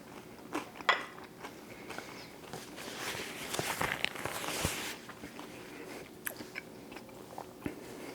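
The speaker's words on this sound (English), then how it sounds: "I love the crunch from the skin." Crispy fried Dutch beef snack (vlammetje) with crunchy skin being bitten and chewed, giving a loud crisp bite followed by several seconds of close, crackly crunching and chewing with no talk.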